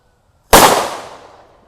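A firecracker lit in water explodes once with a sudden loud burst that decays over about a second, a sharp single bang heard alone.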